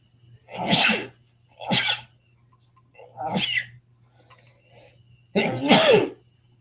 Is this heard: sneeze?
yes